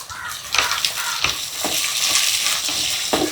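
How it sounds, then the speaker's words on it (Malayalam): Crushed turkey berries fry with wilting onion and garlic in a pan for chundanga theeyal, a steady close sizzle broken by several scraping stirs of a spoon, with no talking. "അപ്പൊ നമ്മുടെ ചുണ്ടങ്ങ ചതച്ചതില്ലേ അത് ഇട്ട് കൊടുക്കാം."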